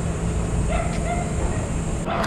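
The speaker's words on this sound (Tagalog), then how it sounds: "Yung mga aso eh." Dogs bark and yip faintly in the distance beside an estero in a Manila informal settlement, short scattered calls over a steady outdoor hum and street noise.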